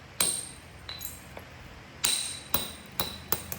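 Sharp hammerstone or billet strikes on an obsidian core, knapping flakes while roughing out an arrowhead: about half a dozen bright, ringing clicks at uneven intervals, close and clear with a quiet background.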